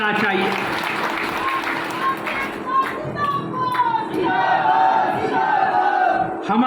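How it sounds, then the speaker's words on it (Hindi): A crowd at a farmers' organisation conference in India applauds and cheers for women farmers, a loud, rolling mix of clapping, shouts and voices that swells and stays busy throughout, with talk mixed in. "मुझे लगता है हमारी महिला किसानों के लिए पूरी तालियां के साथ उनका हमको स्वागत करना चाहिए"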